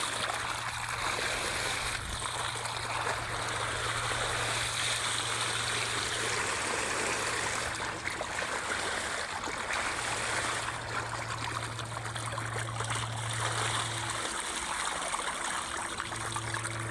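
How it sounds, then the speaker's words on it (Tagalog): Irrigation water runs steadily into a two-hectare corn field, a continuous close rushing flow over a low steady hum, with no voices. "Patubig ng mais kasi matutulog na yung mais namin."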